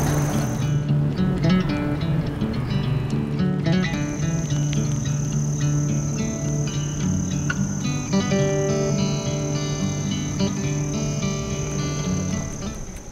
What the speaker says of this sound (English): Both the birds and the crickets were chirping this day.